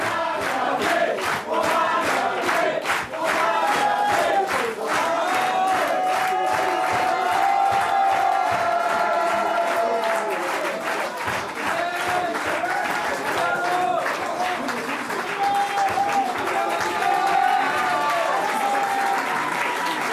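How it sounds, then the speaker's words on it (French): Supporters applaud Manuel Valls at his campaign headquarters at the Maison de l'Amérique latine, sustained loud clapping and crowd cheering with a voice speaking over it throughout. "Applaudi à son QG, Manuel Valls,"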